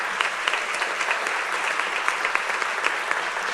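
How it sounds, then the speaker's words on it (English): Audience applause at a city council meeting in Edinburg, a steady, dense wash of many hands clapping that holds evenly throughout, moderately close and without speech. "Round of applause, please."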